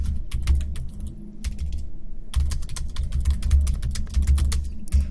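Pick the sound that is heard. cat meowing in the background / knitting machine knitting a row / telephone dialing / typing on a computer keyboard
typing on a computer keyboard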